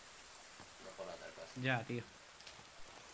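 Steady rain falls in the survival game The Forest, a soft even hiss beneath someone speaking briefly in Spanish.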